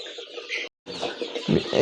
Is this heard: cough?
no